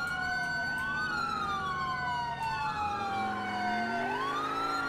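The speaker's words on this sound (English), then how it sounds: "let me know what you guys think of the siren" Police car siren in the video game GTA IV, a loud continuous wailing tone that sweeps up and down in long slow cycles, heard close and alone.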